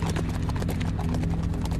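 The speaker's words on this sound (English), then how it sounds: "they galloped off toward Shaolin" Horses gallop steadily, their hooves clip-clopping loud and close in a dense, continuous rhythm with no voices over them.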